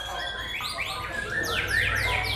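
Several songbirds trill and whistle at a bird song competition audition in Java, their rapid rising and falling chirps overlapping continuously at moderate volume over a low background murmur.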